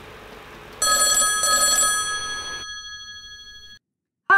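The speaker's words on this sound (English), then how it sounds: "Let's give him a ring." An old-style telephone bell rings in two quick bursts, loud and close, then fades out into silence before a short bright sound cuts in at the end; no one speaks.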